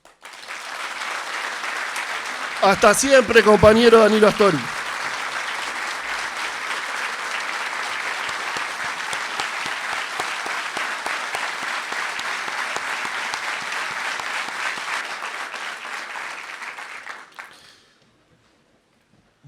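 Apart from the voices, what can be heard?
standing audience applause in tribute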